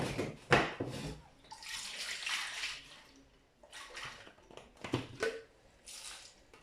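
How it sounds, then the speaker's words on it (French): Running water rinses ingredients for a Mahoran lemon achar, several close bursts of splashing and gushing flow with brief pauses between them. "Je vais encore rincer un peu ça."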